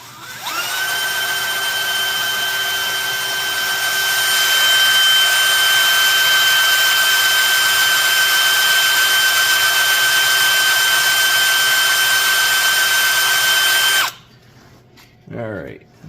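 A power drill running steadily in bolt holes drilled in a Firebird for winter upgrades, a loud continuous high-pitched whine lasting about fourteen seconds before cutting off, followed by brief quieter handling sounds.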